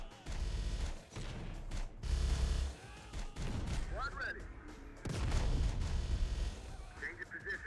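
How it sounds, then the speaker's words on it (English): Howitzer artillery and heavy gunfire in Terminator Dark Fate: Defiance, a battle din of deep booming shots and rattling fusillades in several loud bursts, with radio chatter and voices woven between them. "We need the howitzer to start firing off."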